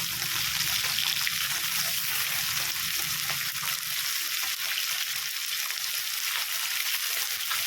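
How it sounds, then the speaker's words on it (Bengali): Mourala fish frying in hot mustard oil, a steady close sizzle and crackle with light stirring and no voices throughout. "এখানে বেশ কিছুটা সর্ষের তেল দিয়েছি, তেলটা কিন্তু আমাদের গরম হয়ে গেছে। এবারে মাছগুলোকে দিয়ে ভালো করে ভেজে নেব।"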